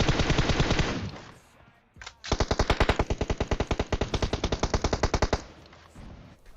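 Automatic weapon fire in the mobile shooter PUBG Mobile: a dense rapid burst, a short pause with one isolated shot, then a long, loud, evenly spaced volley of close shots that stops abruptly.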